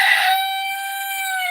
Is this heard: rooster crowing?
yes